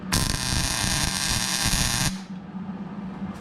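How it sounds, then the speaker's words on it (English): A welder lays a tack weld on a car roll cage during an install, giving a steady, loud crackling buzz for about two seconds before cutting off to a lower hum. "Let's go ahead and make a little tack here."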